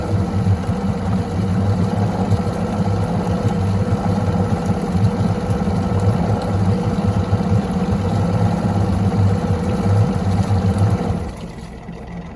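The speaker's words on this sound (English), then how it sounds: "the E-TEC G2 is increasing its oil mixture in place of the fogging, and increases the RPM to run through this cycle" An E-TEC G2 outboard engine running its winterization cycle at raised RPM gives a steady, loud mid-pitched drone, then drops abruptly near the end as it shuts off on its own.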